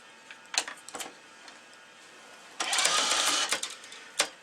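A racquet stringing machine works on a Prince O3 EXO3 frame: a few sharp clicks and clamp snaps, then a longer whirring pull as tension is drawn on the string, ending with another click.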